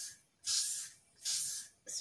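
Three short bursts of aerosol hair spray, hissing close by with brief pauses between them.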